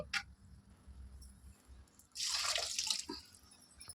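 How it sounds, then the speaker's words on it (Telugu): Water pours into a pan of ivy gourd masala curry, first as a faint trickle under drips, then as a louder splashing pour lasting about a second before tapering off. "ఇప్పుడు మనం నీళ్ళు పోసుకుందామండి"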